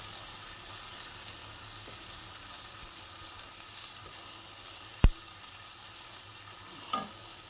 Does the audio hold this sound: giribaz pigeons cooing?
no